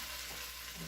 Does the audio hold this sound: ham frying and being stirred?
yes